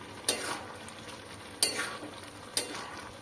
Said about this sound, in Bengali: শাকটাকে সাঁতলানোর জন্য আবার কিছুটা তেল দিয়ে দিলাম